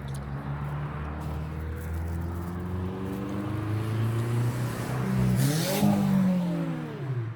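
A Subaru car revving as it passes along a street, engine tone rising and growing louder as it approaches, then sweeping by close with a whoosh, over a steady background hum.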